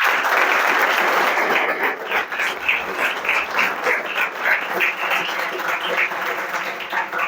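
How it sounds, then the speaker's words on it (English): Sustained applause from an audience for a candidate's parents, a dense wash of many hands clapping that stays loud and steady for several seconds with no talk over it. "So they requires a huge applaud also."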